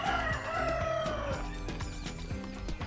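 A rooster crows loudly on a poultry farm in Ubud, one long drawn-out call with other birds and farmyard noise underneath.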